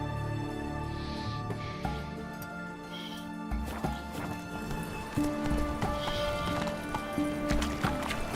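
Roach, a horse in The Witcher 3 video game, trots with rhythmic hoof clip-clops and lets out neighs. A game soundtrack with sustained tones plays underneath.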